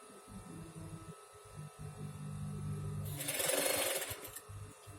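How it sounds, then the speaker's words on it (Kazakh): A sewing machine stitches a lined vest, running in one loud steady burst of rapid whirring near the microphone after a quieter stretch of low room hum. "Енді бірінші тігіп жатырмын жилетканы."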